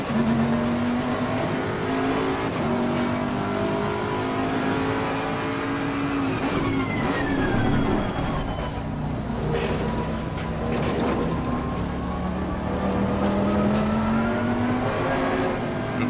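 A GT4 race car engine in Assetto Corsa Competizione drones continuously while driving a lap, its pitch rising and falling through gear changes and corners, loud and steady throughout with no talking.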